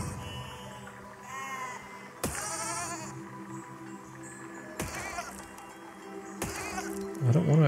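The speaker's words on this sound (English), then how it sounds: "I don't want to explode the sheep." Sheep in the video game Besiege bleat in short wavering calls, several bleats spread across the stretch, each punctuated by sharp sudden in-game impacts, with a low mechanical hum running underneath.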